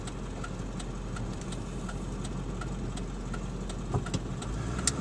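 A 2002 Ford 7.3L Powerstroke diesel truck converted to run on CNG, idling and running steadily with a smooth, even engine rumble close by, no chugging and no talk over it.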